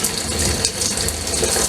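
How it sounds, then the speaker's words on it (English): Tap water runs steadily while dishes are washed in a home kitchen. The gushing hiss is loud, close and unbroken, with no talk over it. "Once the water's finished running."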